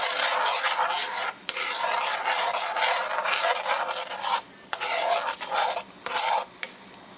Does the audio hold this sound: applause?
no